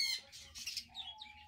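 Blue pineapple conures, kept caged for sale, give a few short, shrill squawks and chirps over quiet background noise.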